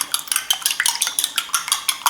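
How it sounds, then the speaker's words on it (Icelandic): An egg being scrambled in a metal pan or bowl, a rapid, steady series of sharp clinking and scraping strokes, close and fairly loud, with no talk over it. "Hérna er svo komið egg hjá þig. Skrömblum við það."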